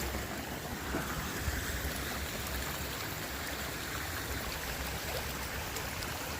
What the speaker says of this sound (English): The water is flowing like a little waterfall going back there.